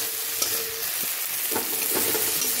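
Ginger-garlic paste fries in a pan with a continuous close sizzle, while a spoon scrapes and stirs it in several soft, uneven strokes.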